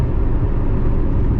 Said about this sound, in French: là, je fais une accélération.